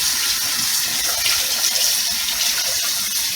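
Water runs steadily from a kitchen tap into a cooking pot for boiling potatoes, a continuous close hissing gush that holds at even strength throughout with no talk.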